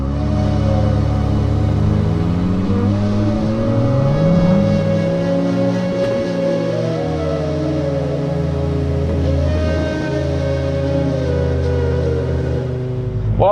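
Ferrari 296 GTB engine in combustion mode on Italian mountain roads, a loud steady engine drone with rising and falling tones as it revs through gears, heard from inside the car.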